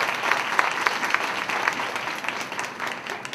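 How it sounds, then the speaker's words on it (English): Conference audience at John Jay College applauding the Career Services Association of CUNY, a sustained even wash of many hands clapping with a few sharper individual claps standing out, no voices over it. "A round of applause for them"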